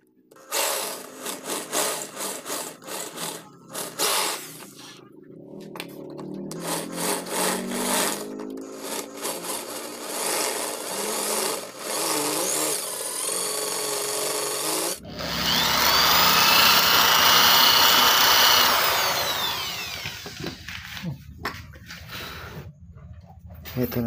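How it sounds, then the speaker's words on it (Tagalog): An electric drill with an 8 mm bit bores through a fuel filter for a silencer, a loud grinding whir with stop-start bursts, then a harsher sustained high-pitched cutting stretch before it breaks off. "papalitan natin yung drill bit natin ng 8 mm. Ito po siya guys, magbubutas na po tayo agad."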